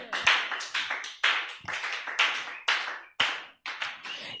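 A church congregation claps together in acclaim of the Lord, with loud, rhythmic bursts of hand claps repeating in regular waves, close and lively, with no talking.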